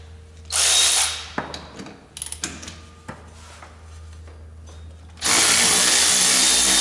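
A power tool whirs loudly in two sustained bursts while a bolt on a 2004 Polaris Sportsman ATV lower control arm is worked off, separated by sharp metallic clanks and knocks as the part is handled.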